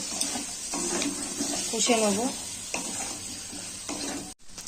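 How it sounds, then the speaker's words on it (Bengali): A Bengali paneer gravy base of ginger, garlic, turmeric, cumin and chili powder fries in a pan, with a continuous sizzle broken by repeated spatula scrapes and stirring, and a brief voice-like sound in the middle. "হলুদ গুঁড়ো, জিরে গুঁড়ো, লঙ্কার গুঁড়ো দিয়ে এটাকে কষিয়ে নেব।"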